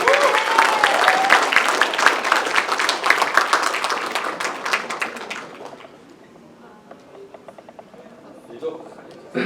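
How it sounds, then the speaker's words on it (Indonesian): Studio audience applause welcoming a guest onto a live Indonesian television talk show, a loud dense burst of clapping with cheers that fades out midway, leaving quieter room sound. "kita sambut dengan tepuk tangan yang meriah"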